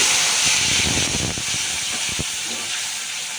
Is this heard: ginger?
yes